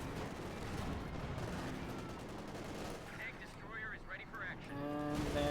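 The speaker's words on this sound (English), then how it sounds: "A lot of bazooka fire." Rapid gunfire and explosive bazooka blasts rattle across a Company of Heroes 2 battlefield with Panzer IV tanks, sustained and dense, with several tonal whistling bursts near the end, all under a continuous commentator's voice.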